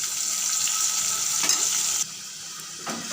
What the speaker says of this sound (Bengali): ভালো করে এবারে মশলা দিয়ে চিকেনটাকে কষিয়ে নিচ্ছি।